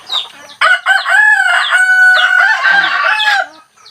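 Chickens cluck and a rooster crows loudly and close by in a rural mountain yard, a long crow with clucking around it and no talking.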